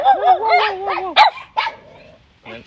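A black mother dog gives a string of high, yelping barks and whines close by, then a few sharper barks with short gaps, one quieter yip ending the sequence.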